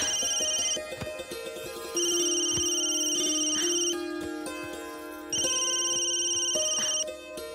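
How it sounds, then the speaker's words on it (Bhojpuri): A phone ringtone from an incoming call repeats in loud electronic melodic bursts, with short pauses between phrases, heard clearly and alone. "चाची के फोन।"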